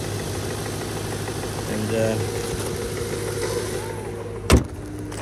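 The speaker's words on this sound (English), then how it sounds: "Four-liter V8. Good tried and true motor there." A 1998 Jaguar XJ8 with a four-litre V8 idles steadily close by, a low even hum running beneath a brief spoken word and a sharp click near the end.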